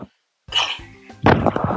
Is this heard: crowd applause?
no